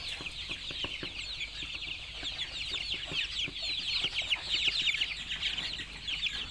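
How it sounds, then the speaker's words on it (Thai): A flock of one-month-old Thai native yellow white-tailed chickens on a farm in Maha Sarakham peeps and clucks continuously. The high chatter is dense and steady throughout, with no talking. "ไก่นี่กำลังอายุ1 เดือนครับ"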